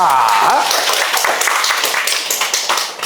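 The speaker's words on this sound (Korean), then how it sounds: "큰 박수로 출발해 보겠습니다." Audience applause rises dense and loud right after a spoken phrase at the start, then rolls on steadily as a broad wash of many hands.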